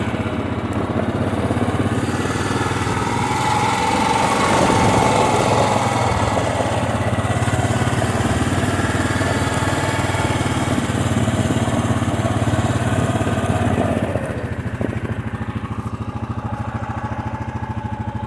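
A small engine, likely an off-road or snow machine on a frozen winter trail near Big Lake, hums steadily and loudly under engine braking, with a sustained buzzing tone and slight dip toward the end.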